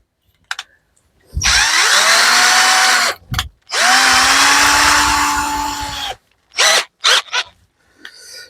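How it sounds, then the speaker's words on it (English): A power drill whirs loudly in two long sustained runs while drilling into a caravan toilet, with short bursts and start-stop revs around them, close and alone. "put the drill in."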